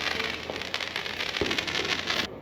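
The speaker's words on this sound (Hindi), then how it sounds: "वो देखो पटाखा जल रहा है, वो देखो।" Crackling bursts of firecrackers popping continuously at a distance during Diwali, with a dense hiss of sparks and a sharper bang near the middle.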